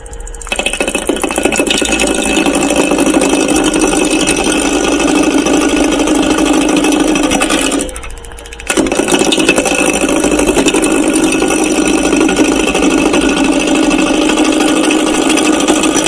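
Wood turning lathe running at 800 RPM, a steady loud mechanical hum and rattle throughout, with a brief dip in level around the eighth second before resuming.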